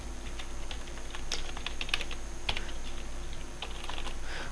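A computer keyboard clatters with quick, irregular keystrokes as a name is typed into a software form, moderately close over a steady background hum, with no talking.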